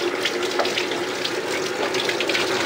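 Water runs steadily from a tap, a constant splashing gush into a sink, close and fairly loud.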